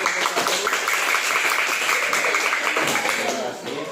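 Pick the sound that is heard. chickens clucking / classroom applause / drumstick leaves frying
classroom applause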